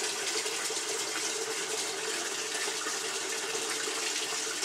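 Water gushes steadily into a bucket, a loud continuous pour of one gallon lasting the whole stretch without any talking.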